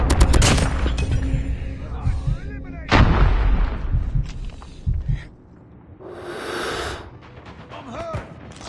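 A Semtex grenade blast and bursts of gunfire during a Domination match in Call of Duty Mobile; heavy layered shots and explosions crowd the first half, a sharp blast lands near three seconds, then fainter game sounds and effects follow.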